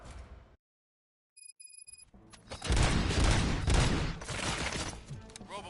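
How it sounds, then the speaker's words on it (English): Gunfire erupts in the RoboCop: Rogue City video game: after a brief silence and a few short electronic beeps, a loud, dense barrage of shots and impacts bursts in and keeps rattling until the end. "Gunshots? What's going on?"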